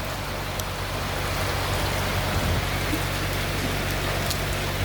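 Rain falling on a rainy day, a steady dense hiss of drops with a low constant hum underneath, even and unbroken throughout.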